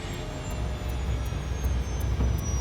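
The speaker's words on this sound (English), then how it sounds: "Investigators hear the sound of the engine thrust decreasing." An airliner's jet engines winding down as thrust decreases, a loud steady roar with a faint high whine, heard from inside the aircraft and with no talk.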